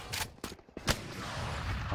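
Faint gunfire in a video game shooting range: a few sharp, quick shots in the first second, then a low steady background.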